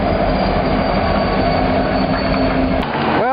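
Freight train rolling past up close, a loud steady rumble of wheels and cars with metallic squealing and a rising wheel screech near the end.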